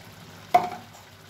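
Ghee poured into a simmering Bengali squash, potato and chickpea curry gives one brief, soft sizzle that rises sharply and fades within half a second against a quiet kitchen background.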